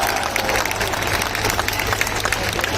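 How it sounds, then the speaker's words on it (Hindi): Crowd applause at a Gwalior public celebration welcoming Chief Minister Shivraj Singh, a steady dense wash of clapping throughout with a low hum underneath. "यशस्वी मुख्यमंत्री शिवराज सिंह जी का हम तालियों की गड़गड़ाहट से हम लोग स्वागत करें"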